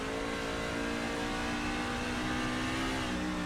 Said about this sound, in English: Yep, pretty much quarter, half throttle at this point. Still in 2nd gear. Getting up there, higher RPMs.